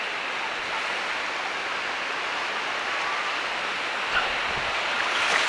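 Ocean waves at high tide on Hua Hin beach in Thailand roll in as a steady, loud wash of surf, with a slightly stronger surge toward the end.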